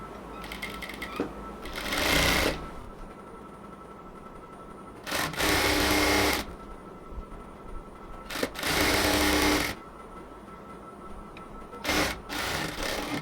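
A sewing machine stitching a folded half-inch fabric border on a salwar runs in several loud bursts of steady whirring, separated by quieter pauses of fabric handling.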